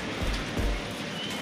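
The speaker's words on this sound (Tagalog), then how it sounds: "Medyo maulan." Steady rain hisses and patters outdoors during a bus stopover in Pangasinan, a constant wash of drops with a couple of heavier low thumps.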